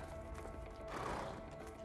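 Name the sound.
horses neighing and galloping in video game A Way Out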